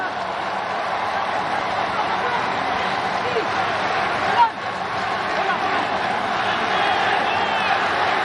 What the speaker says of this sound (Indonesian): Irfan Jaya mendengar sorak-sorai para supporter Indonesia yang datang ke stadion Stadion Nasional Singapura di Kallang